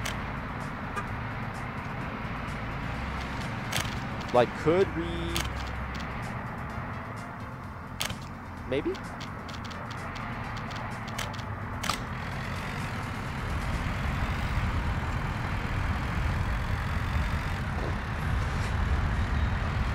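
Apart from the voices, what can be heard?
car engine driving in video game Workers and Resources: Soviet Republic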